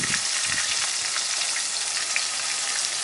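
Eel laid in a hot pan hisses in a loud, steady, close frying sizzle with no one talking over it.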